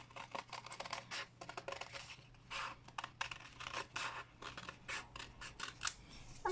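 Scissors snip through paper for an ice-stick paper fan in a series of close, crisp, uneven cuts with short pauses between bursts, quiet and alone without talk.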